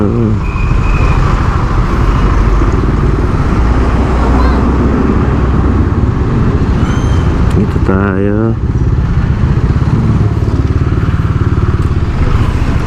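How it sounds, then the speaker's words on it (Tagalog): Rush-hour street traffic in Catbalogan City, with tricycles and motorcycles passing steadily close by, a loud continuous engine drone with a horn beep midway, while someone talks over it throughout. "busy time busy area ito sa ganitong oras rush hour"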